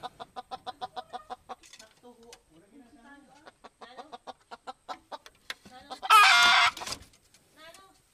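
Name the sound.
female red junglefowl (labuyo) clucking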